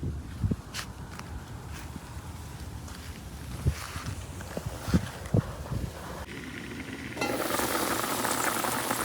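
Papaya curry cooking in a pan, a low bubbling sizzle with intermittent stirring scrapes and knocks, growing to a louder, denser hiss near the end.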